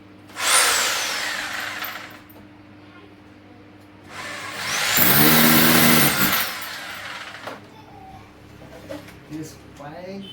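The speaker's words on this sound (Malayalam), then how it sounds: "ഇനി അടുത്ത ഹോൾ അടിച്ച് നമുക്ക് പരിപാടി തുടങ്ങാം നമുക്ക് സീലിംഗ് ഡ്രില്ല് ചെയ്യാനുള്ള പരിപാടികൾ നോക്കാം" A power drill bores holes into a ceiling for a gypsum ceiling installation. There are two close, loud whining bursts: a short one first and a longer, deeper one after a pause. Light clatter follows.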